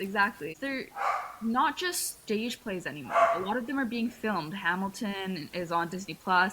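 Several dogs bark in short bursts in the background of a room, partly masked by steady, continuous conversation from nearby voices.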